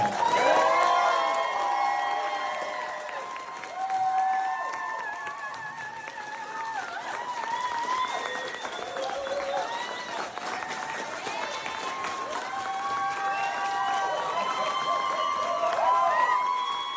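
A rally crowd welcomes a Democratic congressional candidate for Tennessee's 2nd District with steady applause mixed with whoops and shouted cheers, a dense bright roar of many voices that swells and holds throughout.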